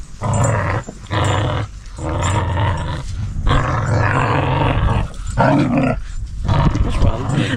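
Two dogs wrestle in play, trading loud, close, repeated growls and rough snarls in bursts with brief pauses, alongside a caravan fence during a family trip in Australia.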